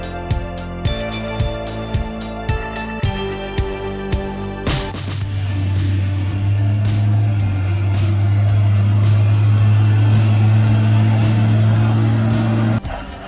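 A heavy truck climbs a ramp onto a barge: a few seconds of stepped, rising engine tones, then a loud, steady low engine drone under strain that holds to the end, with no voices.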